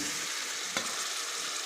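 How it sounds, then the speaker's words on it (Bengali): Pointed gourd, eggplant and potato go into hot oil with cooked-down spices, giving a steady close sizzle with one brief stirring clink. "আমার মশলা কষানো হয়ে গেছে, মশলা থেকে তেল ছেড়ে দিয়েছে। এখন সবজিটা অ্যাড করছি।"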